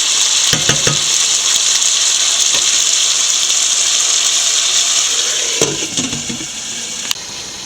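Chicken curry sizzling and bubbling steadily in a pan, loud and continuous, with a few clinks of a spoon or lid near the start and again toward the end.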